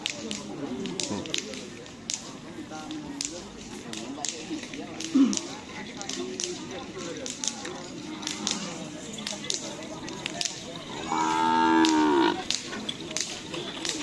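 A cow lets out a loud, drawn-out moo amid a busy outdoor background of voices, clatter and sharp knocks at a karapan sapi bull race in Pamekasan, Indonesia.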